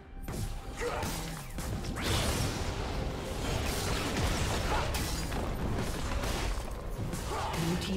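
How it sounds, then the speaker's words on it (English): A turret being destroyed in League of Legends gives a dense, sustained crash and rumbling smash with whooshing impacts amid busy game combat noise, loud and continuous throughout. "Blue team's turret has been destroyed."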